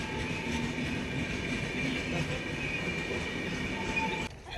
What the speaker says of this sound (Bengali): আপ কুলিক এক্সপ্রেস গেল।